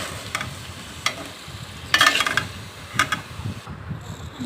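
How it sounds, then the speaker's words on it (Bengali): Potatoes fry in hot oil in a pan, a steady sizzle under several sharp scraping stirs at roughly one-second intervals. "আর যে আলুটা আমি ভেজে নিচ্ছি,"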